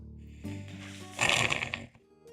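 A thick, wet throat-clearing and hacking cough, loud and close, rising to a rattling burst of phlegm before trailing off.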